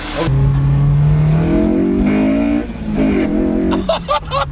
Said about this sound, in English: A lot more induction noise.